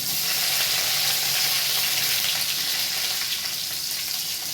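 Curry leaves sizzle in a hot tempering of crackled mustard seeds with asafoetida and turmeric, a steady loud frying hiss that runs unbroken and close for the whole span with no talk.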